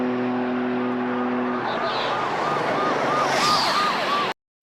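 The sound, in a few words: car engine roar turning into police sirens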